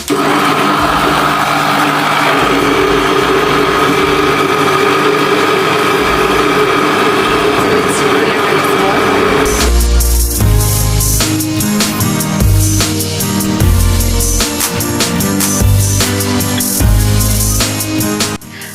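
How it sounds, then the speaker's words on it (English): Blender pureeing a pumpkin soup mixture, a loud steady motor whir for about ten seconds that changes to a harsher, choppier grinding roar in the second half, with no talk. "Our mixture, we're gonna puree this in the blender."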